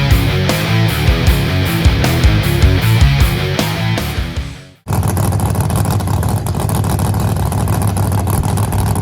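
Loud, continuous roar of a Plymouth Barracuda race car engine on a drag strip test pass, with rapid harmonic revving bands that cut off abruptly midway, then a dense, steady broadband engine wash resumes close by.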